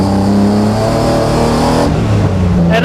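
Garage-built BMW E36 revving hard on a race track, its engine loud and close with a rough, buzzing tone that shifts in pitch near the end, with no voices.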